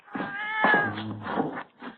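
A cat gives several drawn-out, wavering meows in close succession, loud and close, with no talking.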